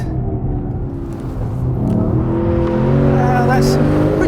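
A V8 saloon car's engine roars steadily and loudly on a race track, its revs climbing toward the end, heard from inside the cabin beneath a constant low rumble.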